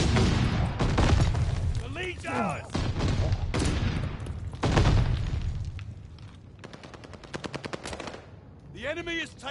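Rapid automatic gunfire at a contested hard point in the video game Vanguard, dense bursts of shots and booms up close, with brief electronic voice announcements and chatter in between.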